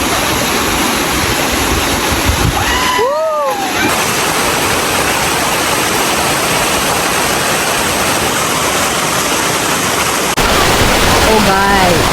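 The infinity waterfall in Hong Kong roars as a loud, steady rush of falling water close by, with bird calls briefly above it and some faint voices.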